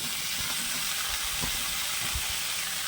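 Boiled vegetables tossed into cooked masala in a pan: a steady, soft hiss of sizzling with a few faint stirring knocks underneath, heard up close without talk.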